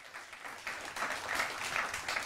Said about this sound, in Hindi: जोरदार तालियों के साथ स्वागत करिए योग गुरु बाबा रामदेव का